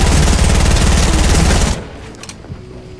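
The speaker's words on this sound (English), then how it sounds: "you kept shooting even after you reloaded" Rapid automatic gunfire from the video game Fortnite, a loud, dense burst lasting under two seconds that stops abruptly and leaves faint background sounds.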